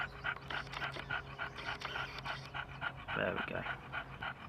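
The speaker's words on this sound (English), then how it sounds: "Stop panting, I'm trying to record, girl." A dog pants rapidly and rhythmically close by at a lakeside fishing spot, quick even breaths repeating throughout, with someone speaking briefly over it.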